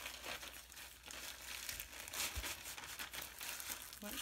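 A black packaging sleeve from a diamond painting kit is handled and pulled open, giving close crinkling and rustling plastic sounds in an uneven series of crackles, with no speech.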